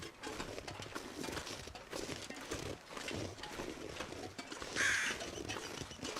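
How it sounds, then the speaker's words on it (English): A single bird caws out in the snowy forest of The Long Dark, a short burst near the five-second mark, set against a steady wind-like hiss. "I think I hear a single bird up there, leading me to the bunker."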